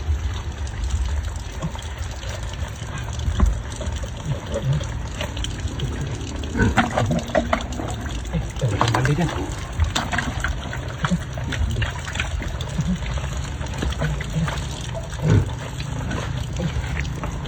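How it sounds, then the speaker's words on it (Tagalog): Strong rushing water gushing from the area around a banana tree, a continuous loud wash with splashes, while people talk excitedly over it. "Sobrang lakas ng tubig dyan."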